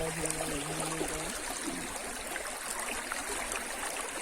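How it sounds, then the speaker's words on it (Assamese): The Dirgha river near Chiyajuli, a picnic spot, flows with a steady broadband rush of water, soft and even, with a brief tonal sound at the very start. "পানীত শব্দটো শুনি কেনেকুৱা লাগিলে কমেণ্ট কৰি জনাবচোন"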